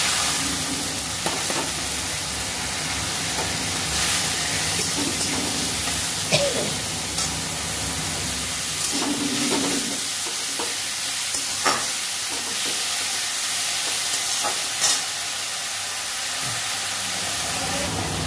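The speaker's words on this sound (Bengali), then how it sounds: "কলমি শাক রসুন দিয়ে লঙ্কা দিয়ে ভাজি।" Water spinach frying with garlic, dried red chilli and green chilli in a pan, a steady close sizzle with intermittent clatter of stirring running throughout, no voices.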